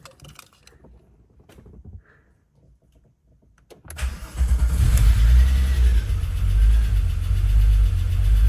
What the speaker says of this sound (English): So, car is running.